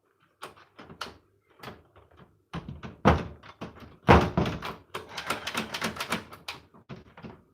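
A stuck door in a house being pushed and rattled, with irregular knocks and thumps that build into rapid, loud clattering bursts.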